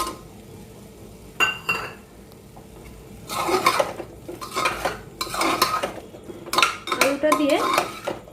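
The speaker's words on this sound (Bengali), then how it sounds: "আলুটা দিয়ে মশলার সাথে মিলিয়ে একটু ঢেকে দেবো।" Cut potatoes and spices stirred in a metal pan, with a spoon clanking and scraping in irregular bursts, close and fairly loud, over a faint background hiss.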